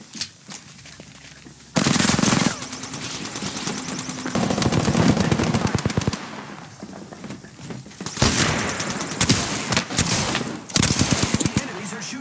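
Bursts of automatic weapon fire from Apex Legends ring out in repeated rapid volleys, loud and close, broken by brief lulls, with some thuds and movement between the bursts.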